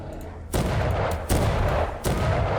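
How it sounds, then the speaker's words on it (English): Video game gunfire erupts in three loud, booming volleys spaced about a second apart, each a dense rattling burst close up and alone. "When in doubt, shoot him to death."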